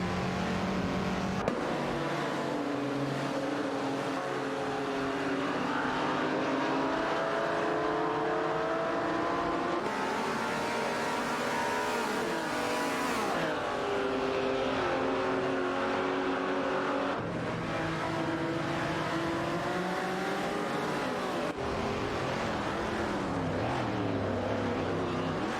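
Racing cars in a video game race roar close and continuous, several engines overlapping as their pitches climb and fall with shifts and overtakes, with brief cuts between passages and no speech.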